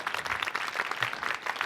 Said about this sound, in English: let's have a round of applause there